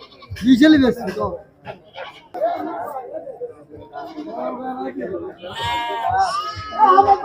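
Goats bleating at a busy rural goat market in Ullapara, Sirajganj, with several bleats rising over constant close talk and crowd chatter.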